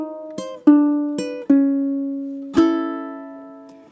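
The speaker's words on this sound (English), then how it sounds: "That sound, that shuffle or swing idea, permeates the blues" A ukulele plays a blues pattern in swung shuffle eighth notes, with a few plucked chords in an uneven long-short rhythm and the last chord ringing out, heard close and alone.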